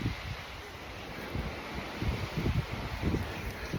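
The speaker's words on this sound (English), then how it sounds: "Hear that wind?" Steady wind rushes through a small pine tree on a mountaintop, a continuous hissing rustle with low gusty buffeting close to the microphone.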